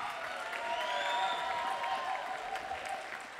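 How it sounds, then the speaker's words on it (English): Steady applause from a jazz ensemble concert audience fills the space, mixed with lingering musical tones and a few cheers. "So a big round of applause to Zen Mendoza,"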